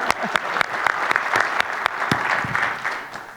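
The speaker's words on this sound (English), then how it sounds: "And so, give him an applause," An audience at a talk on revitalizing historic Black neighborhoods applauds, a steady wash of clapping with sharp individual claps standing out, close and fairly loud, tapering off near the end.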